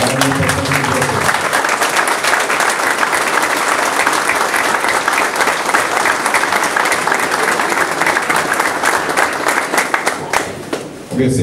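Sustained, dense applause from a gathered audience honoring the women present, loud and continuous for about ten seconds before tapering off, with a few voices in the crowd.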